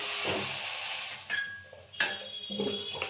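Chicken meat poured into a hot kadai for a Bengali chicken curry hisses and sizzles loudly at first, then settles into softer crackling with a few sharp stirring clatters.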